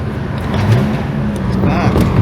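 A Lexus IS200 engine revving hard, a loud, close, rising mechanical roar that stays strong through the short stretch, with voices underneath.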